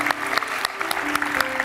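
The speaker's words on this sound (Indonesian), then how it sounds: "Tepuk tangan dulu deh buat Adam." A game show studio audience applauds steadily in a dense, fairly loud wash of clapping, with a host's voice briefly audible underneath.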